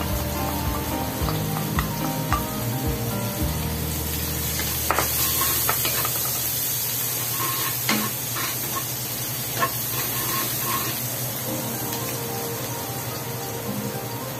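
Garlic frying in a pan while cooking ginataang tilapia, a steady close sizzle and hiss running throughout, with occasional faint clicks of stirring and no talk.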